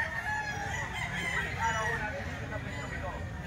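A stag gamecock rooster crowing close by, a drawn-out harmonic crow over a busy background of other fowl and faint talking.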